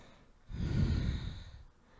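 One deep, slow breath during a gentle yoga pose, a soft close exhale swelling and fading over about a second in a quiet room.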